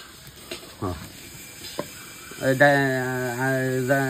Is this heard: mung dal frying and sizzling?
yes